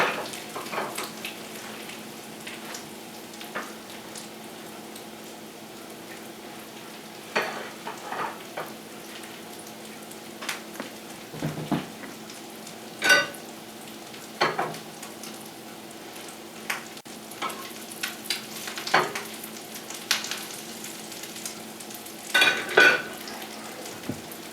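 Crab cake patties frying in a pan: a soft, continuous sizzle up close, broken now and then by pops, light clicks and a few scraping touches of a utensil against the pan.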